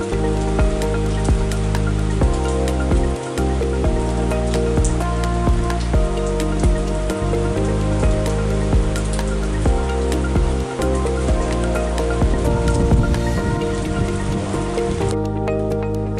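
Steady rain pours down on surfaces in Uttarakhand, a dense continuous patter with occasional louder drips, no voices, lasting throughout.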